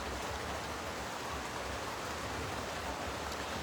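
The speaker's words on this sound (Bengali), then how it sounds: "বৃষ্টি হচ্ছে অলরেডি" Rain falling under a cloudy sky, a steady even hiss of drops on surfaces, moderately loud and continuous, with no voices.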